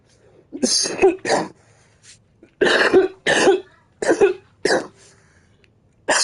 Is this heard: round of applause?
no